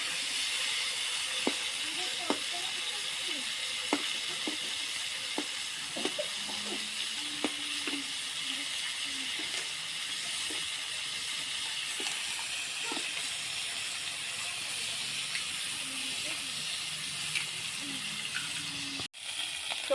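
Fish sizzles in hot oil in a pan, a steady close hiss and crackle that runs the whole time with small pops scattered through it.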